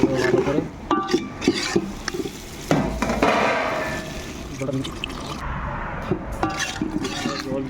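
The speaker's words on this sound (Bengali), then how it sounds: "আমরা টমেটোটা যে কেটেছিলাম এর উপরে দিয়ে দিব। মিক্স করে ভালো করে।" Tomatoes being stirred into a curry in a pan, with scraping and clattering spoon-on-metal knocks and wet mixing sounds at close range, loudest around the middle, with a voice speaking in the background.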